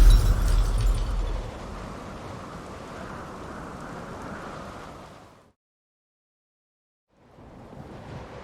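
Rain-heavy thunderstorm ambience in The Witcher 3 video game, a steady broadband downpour with a low rumble at the start, fading into silence for about two seconds before the rain wash returns.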